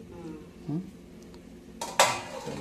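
A metal lid clanks down onto a cooking pot on a gas stove while radish curry cooks: two quick sharp knocks near the end, over faint kitchen background.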